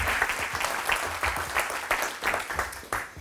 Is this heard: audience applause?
yes